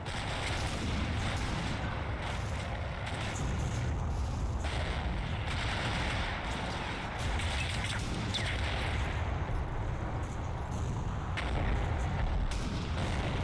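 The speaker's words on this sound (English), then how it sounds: "the M5, 2nd Squad 2nd Platoon and an MMG from B Company try to lay down suppressive fire" An M5 tank and a medium machine gun lay down suppressive fire in the Combat Mission Fortress Italy war game. Sustained gunfire and booms form a dense, continuous, loud roar with no pauses.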